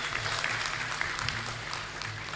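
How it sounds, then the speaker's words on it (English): Applause from a large audience at a health summit, a dense wash of clapping with a low hum beneath, steady and fairly loud throughout. "A big round hand of applause to the board of directors."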